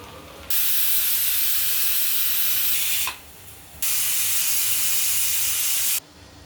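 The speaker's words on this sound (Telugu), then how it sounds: "4 విజిల్లు వచ్చే వరకు పెట్టుకుందాం పప్పు మనం" Two loud, forceful bursts of hissing steam from a pressure cooker whistling while cooking spinach dal, each lasting a couple of seconds, with a short quiet gap between them.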